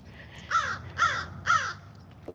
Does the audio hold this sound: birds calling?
yes